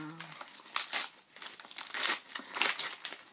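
Close, crisp crinkling and tearing of pink gift wrapping paper in irregular bursts, fairly quiet.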